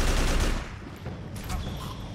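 Rapid gunfire while aiming down sights in the video game Haze, a dense continuous burst of shots filling the whole moment, loud and close with no talk.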